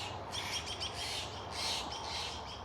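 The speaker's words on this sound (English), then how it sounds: "The crows are aware that we are here, letting everybody know." Crows calling among trees in an Oregon Masonic cemetery, a scattered run of harsh squawks and chirps at moderate distance over steady outdoor background noise, no voices.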